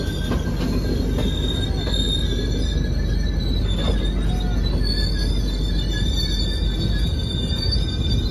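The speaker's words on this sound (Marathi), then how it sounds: "आता ट्रेन थांबते बघा" A passenger train slowing into a railway station squeals from its wheels, a loud continuous high metallic screech over a constant rumble of rolling cars that lasts throughout.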